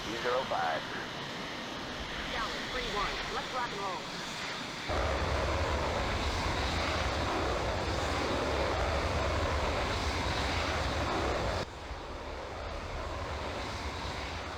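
Jet engine roar from the Falcon 4 Allied Force flight simulator swells to a steady, loud broadband rush as the fighter starts its takeoff roll in a two-ship formation, with someone talking over the quieter start.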